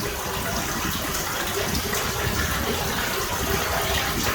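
Water sprays and gushes steadily inside a lift station pump pit, a continuous close, rushing hiss with no pauses or talk over it.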